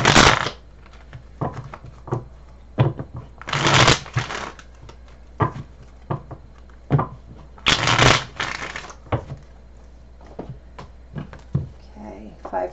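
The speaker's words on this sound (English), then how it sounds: "One more shuffle." Tarot cards are riffled and shuffled in several bursts of crisp rapid flutter, with soft taps and handling noises between them in a quiet room, and a voice speaks briefly.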